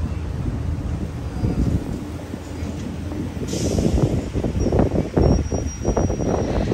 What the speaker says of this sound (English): Just to be exact, it's pretty windy.